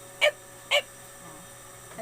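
A person imitates a dog barking with two short, sharp yips about half a second apart, close and clear over a quiet room.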